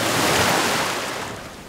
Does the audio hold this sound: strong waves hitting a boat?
yes